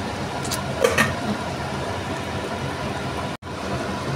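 Fried hilsa fish and eggplant sit in a pan with water, giving a steady, even hiss and sizzle throughout, with a few faint higher crackles early on and a brief cut near the end, with no talking.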